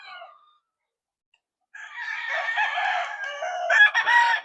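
Roosters crow in a small backyard chicken coop, with one long crow after a brief silence and another crow overlapping it, loud and close.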